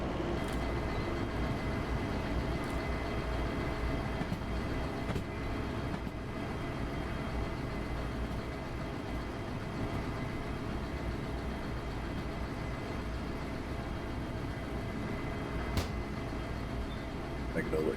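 A freight train locomotive in the Derail Valley video game produces a steady, low, droning engine rumble as it builds speed, continuous throughout, with a person talking over it.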